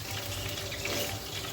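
Chicken pieces dropped into a pan of hot oil with a little boiling water, giving a steady, dense hiss and bubbling sizzle close by, with no talking.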